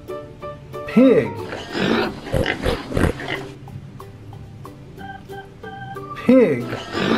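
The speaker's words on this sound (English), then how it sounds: "Pig." A toy pig gives short oinking grunts at two points, loud and close, around a cluster of sharp taps and clicks in an indoor setting.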